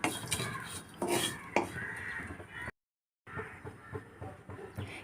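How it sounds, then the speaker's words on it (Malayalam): Fried prawns being scooped out of a pan with a metal spoon: clinks and scrapes of utensil on pan, a short break of silence midway, then more clattering and rustling. "ചെമ്മീൻ വറവായിട്ടുണ്ട് ഇനി ഇതൊന്ന് കോരിയെടുക്കാം"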